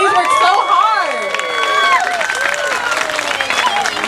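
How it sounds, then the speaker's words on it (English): A crowd at a House of Perú dance show cheers after the dancers finish: loud whoops, shouts and high excited voices, including children, over scattered clapping, all close and lively. "Give them a big round of applause, please."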